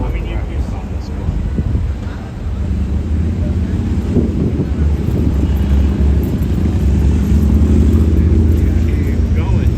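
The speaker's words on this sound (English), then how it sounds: "Traffic runs both directions on this one." Steady two-way street traffic on 34th Street in Midtown New York, a continuous loud rumble of passing cars with wind buffeting the microphone, heard while walking along the sidewalk.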